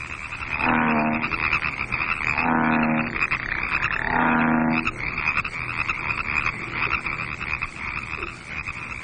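A pond full of toads calling in spring mating season, a dense continuous chorus of trilling croaks with several louder, nearer bursts rising out of the background din.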